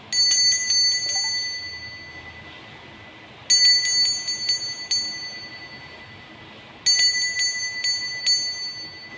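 Three bright bell strikes ring out several seconds apart, each with a shimmering metallic ring that slowly fades. There is no talking.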